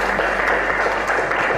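Loud, dense applause fills a hall at a public speaking event, steady clapping from a large crowd close to the microphone.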